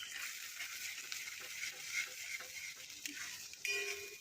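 Red chili powder being sautéed in spiced oil with masala for chole, giving a quiet, steady sizzle with light stirring scrapes and a few brief clinks, heard alone at close range.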